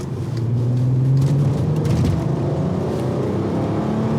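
A VW Golf R32 with its 3.2 litre engine accelerating, heard loud from inside the car as a deep, rising engine drone that holds steady throughout.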